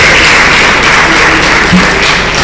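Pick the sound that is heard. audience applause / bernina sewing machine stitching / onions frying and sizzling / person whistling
audience applause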